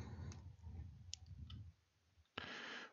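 Mouse clicks on the Next button of a software installer, a few faint sharp ticks over quiet room noise, with a louder click near the end.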